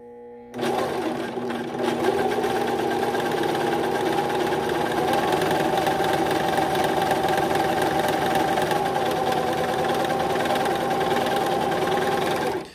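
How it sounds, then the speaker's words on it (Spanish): A Singer S0235 four-thread overlock machine sews and trims fabric, starting up after a brief pause and then running as a loud, steady, fast mechanical hum with rapid rhythmic stitching for the rest of the stretch, no speech. "le pisamos despacio al pedal para iniciar la costura"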